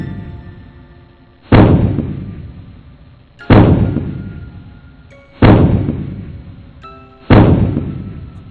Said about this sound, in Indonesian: Itu suara langkah kaki yang sangat berat.